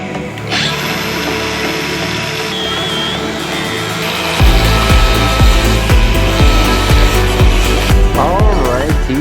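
A power tool grinds and cuts away part of a vehicle's suspension area to stop rubbing near new sway bar bushings, a steady loud whine that turns into harsher repeated bursts of cutting in the second half.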